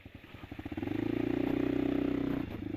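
A scooter passes close on a road, its small engine rising from soft putters to a buzzing drone before fading away, heard alone without talk.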